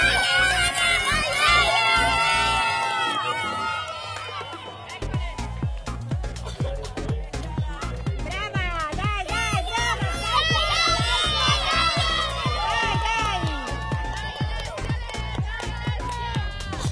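Crowd cheering and children shouting at a children's ski race in snowy Cogne, a steady loud roar lasting throughout, with a commentator talking over it.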